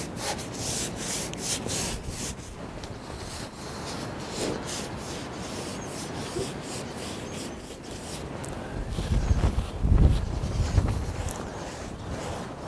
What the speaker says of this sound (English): do a little bit more brushing back and forth